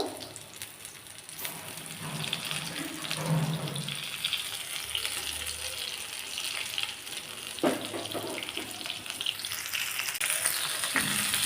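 Bangda (mackerel) fish frying in a pan in a home kitchen, Marathi-style: a soft continuous sizzle with splashy, watery crackle and occasional stirring or handling clatter, fairly quiet, no talking.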